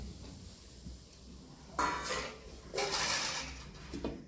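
A metal lid goes onto a pot of dal cooking with mango, giving two or three clattering, scraping clanks of metal on metal over a quiet kitchen background.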